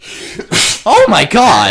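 A single loud, close human sneeze, a sharp burst preceded by a brief intake, followed immediately by an excited spoken exclamation in a casual indoor conversation.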